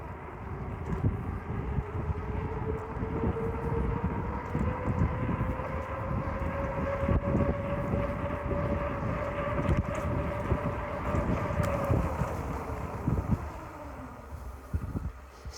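A Dukawey T20 Pro folding e-bike ridden at its unrestricted top speed, around 45 km/h: a steady rush of wind buffeting the microphone over a continuous motor whine that climbs slowly in pitch and then drops near the end.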